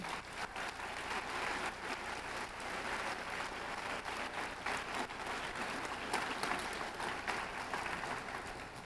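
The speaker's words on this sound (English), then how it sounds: "you can clap for them." An audience at a national high school science bowl championship claps for volunteers, a soft, steady, rain-like wash of applause from a large hall lasting several seconds.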